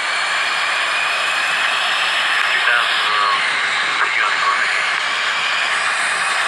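A helicopter lifting off in the Helicopter Flight Pilot Simulator game, a steady broad engine and rotor roar holding at a constant loud level throughout, with someone talking over it.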